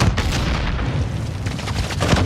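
Dense, rumbling blast noise fills the clip, a sustained game explosion with crackling bursts layered over a heavy low roar.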